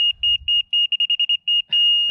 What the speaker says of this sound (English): fast beep means it's high. Slow beep low. There's a sweet spot.